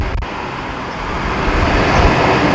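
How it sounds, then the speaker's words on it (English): A car drives past a parked Ram 3500 pickup on a road, its tire and road noise swelling steadily over a couple of seconds amid traffic rumble, with nobody speaking. "you'll see when a car passes by right now"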